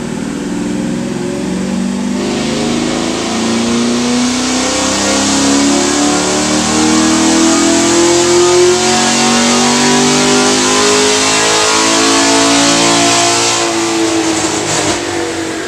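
Loud engine of a sixth-generation Chevrolet Camaro with new heads and cam revving steadily higher under sustained load on a dyno, a long rising drone that peaks and then cuts back near the end.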